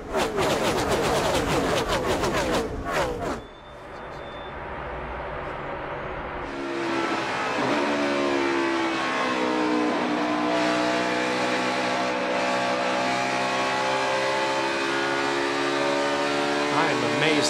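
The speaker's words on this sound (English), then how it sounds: "Engine is still running." NASCAR Cup Series race car at Pocono, its engine droning loudly and continuously, with a brief dip before a steady sustained engine roar returns under broadcast commentary.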